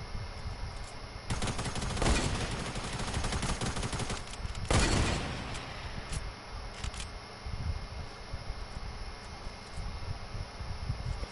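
Rapid automatic gunfire in a video game: two loud sustained bursts early on, then scattered quieter shots and lulls over a constant background hiss, with no talking.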